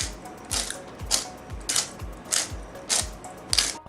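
A pepper mill grinds fresh pepper in a kitchen, giving repeated rhythmic ratcheting crunches about twice per second, close and fairly quiet, with no talk.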